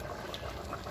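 Rice boiling in a pot at a village home kitchen, a steady low bubbling rumble with soft hissing that runs continuously and evenly through the short moment.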